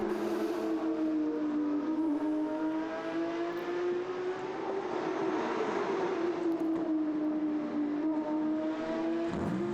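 Porsche Cayman race car of the GTK by NGT team circling in a Belcar Series endurance race, a loud continuous engine note that rises and falls with gear changes, steady and close throughout, with no talk.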